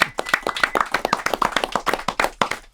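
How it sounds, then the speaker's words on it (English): A small panel-discussion audience claps for the panelists, with distinct, fairly close individual hand claps in a brisk, uneven patter that fills the whole moment. "Let's give a round of applause to our panelists"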